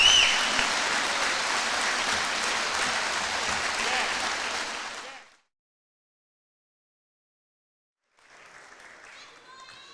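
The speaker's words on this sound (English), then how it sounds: "applause" A gym crowd at halftime of a Pontiac Township High School varsity boys basketball game applauds Hall of Fame Class of 2024 inductees, loud sustained clapping for about five seconds that stops abruptly, followed by silence and then faint hall noise.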